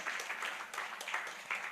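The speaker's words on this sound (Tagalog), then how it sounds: "Palakpak para kay Lord." A church congregation claps during a sermon, a full, fairly distant wash of many hands pulsing in uneven swells without a voice on top.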